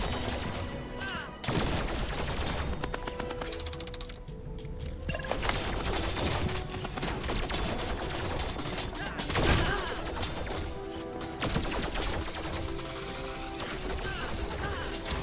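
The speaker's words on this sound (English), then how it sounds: "Rocket launcher, do your thing." A rocket launcher fires repeatedly in a video game, heavy blasts mixed with clinking debris and crashing effects, loud and chaotic throughout with only a couple of brief dips.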